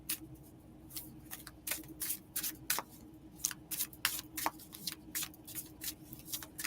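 Oracle cards being shuffled during a live card-reading session, a steady run of quick papery riffles and soft slaps at close range, with a faint low hum underneath and no talking.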